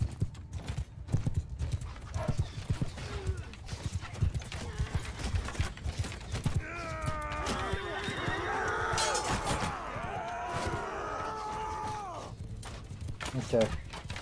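Horses in Mount & Blade 2 Bannerlord, a battle strategy video game: steady hoof clip-clop with whinnies and neighing rising in the middle, under low battle noise and occasional talk.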